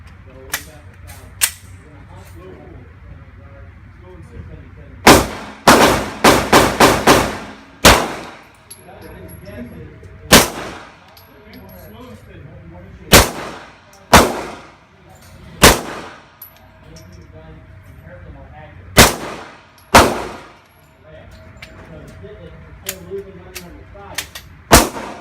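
Handgun firing Perfecta 115 ammunition at a target on a range, sharp loud shots in irregular clusters with ringing metallic clangs from steel targets and quiet gaps between.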